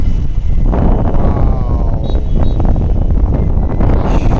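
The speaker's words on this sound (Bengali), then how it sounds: "সমুদ্রের সুন্দর হাওয়াটা" Sea breeze blows across a hotel rooftop by the shore at Digha, a loud constant wind rush buffeting the microphone, with faint distant background sounds.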